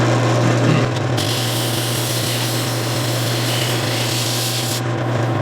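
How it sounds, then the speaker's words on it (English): Steady abrasive sanding hum from a drum sander mounted on a drill press, continuous and close, with a slight change in tone about a second in. "So I've got my drill press set up with a drum sander."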